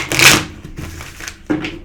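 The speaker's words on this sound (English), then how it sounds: "I don't normally bridge shuffle these cards" Tarot cards being bridge shuffled by hand, a close crisp riffling burst followed by softer shuffling and a second short riffle.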